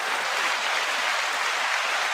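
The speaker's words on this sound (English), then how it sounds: "9-second applause to everybody." Steady, dense applause from an audience for a panel discussion, continuous and even throughout, with no one speaking over it.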